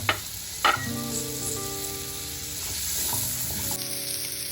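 Cut pumpkin pieces hit a hot oiled pan with a couple of sharp clacks, then settle into a steady, close sizzle as they are stirred, with no voices.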